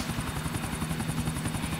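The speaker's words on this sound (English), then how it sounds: "I am flying a helicopter." A helicopter in the game GTA 4 thrums with a steady rotor chop, loud and continuous throughout, with no voices over it.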